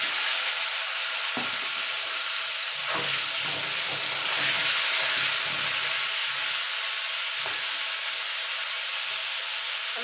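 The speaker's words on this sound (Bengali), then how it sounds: "এবার কপিটা ভেজে তুলে নেব" Cauliflower florets fry in hot oil, a loud steady hiss of sizzling with occasional bubbling pops and spatters, close by and without talking.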